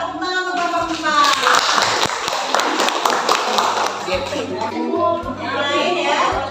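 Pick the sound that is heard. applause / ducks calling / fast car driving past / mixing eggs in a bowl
applause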